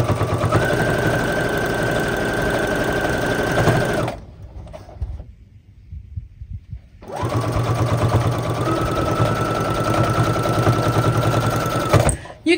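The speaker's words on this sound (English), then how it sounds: "You can slow down the speed by your foot pedal or if you have an adjuster on the machine." A sewing machine stitches a dish drying mat in two long, steady loud runs with a short quiet pause between, its motor whirring at constant speed.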